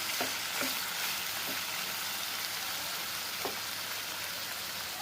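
Meat browning in a frying pan, a steady close hiss of sizzling fat with a few soft knocks from stirring, continuous and even throughout.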